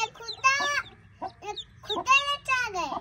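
Small chick cheeping and chirping in a run of high, bright calls, fairly close, with short gaps between bursts and faint household noise behind.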